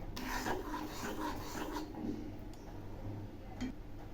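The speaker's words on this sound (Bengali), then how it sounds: "এগুলি এখন ঘন ঘন নাড়তে থাকবো, একদম থামা যাবে না।" Palm kheer thickening in a pan gives a steady, close scraping and rubbing as it is stirred continuously, with soft periodic rasps from the spoon against the pan bottom.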